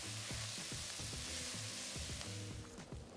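Carrots sizzle in a Le Creuset Dutch oven, a steady close frying hiss with faint stirring scrapes. No one speaks.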